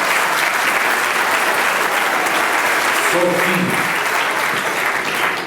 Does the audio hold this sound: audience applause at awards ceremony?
yes